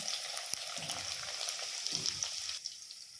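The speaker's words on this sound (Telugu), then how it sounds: "ఒక అర స్పూన్ జీలకర్ర, ఒక పెద్ద ఆనియన్ కట్ చేసుకొని వేసుకుంటున్నాను" Chopped onion and cumin seeds frying in hot oil in a clay pot, a steady soft sizzle with light crackles and a few faint stirring taps, close and fairly quiet.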